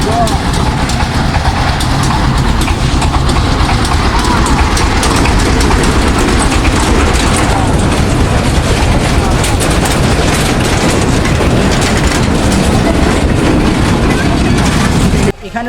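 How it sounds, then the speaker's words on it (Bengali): A train pulls into an amusement park, a loud continuous rumble with rolling rail clatter and engine drone, steady across the whole stretch under crowd noise. "ট্রেন আসতেছে"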